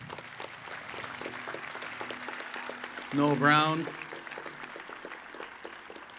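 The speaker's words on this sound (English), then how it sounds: "So let's hear a round of applause" A crowd at an outdoor National Day for Truth and Reconciliation gathering gives a round of applause for an artist, soft steady clapping from a distance, while a voice speaks briefly in the middle.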